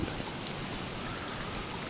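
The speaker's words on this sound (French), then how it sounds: "Ok, c'est l'hiver, il pleut, il y a de l'orage." Winter rain in the video game Don't Starve, a dense steady hiss of falling drops, even and continuous throughout.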